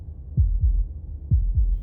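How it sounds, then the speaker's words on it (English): A low, muffled heartbeat in the video game Slay the Princess, with two thudding lub-dub pairs spaced about a second apart, heavy and close against a faint rumbling background. "That was the sound of a heartbeat,"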